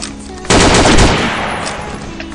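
Automatic gunfire in the online shooter Combat Arms breaks out as a sudden loud, dense burst of rapid shots and then trails off into echoing decay, heard alone.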